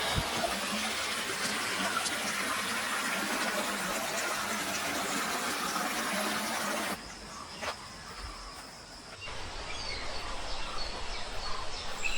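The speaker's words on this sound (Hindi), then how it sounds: "पानी की कलकल छलछल इस मॉर्निंग वॉक को और आनंदित करती हुई। It's a so natural stream." A natural stream babbles along a morning walking route in Coorg, a steady bright hiss of rushing water that dips partway through and then resumes, with no talking.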